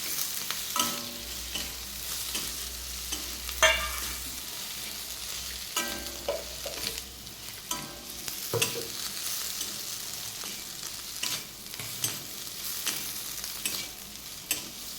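Chopped boiled potatoes are stirred and tossed in a hot pan for a Marathi potato bhaji, with a steady sizzle under repeated scraping and clattering strokes. No one speaks.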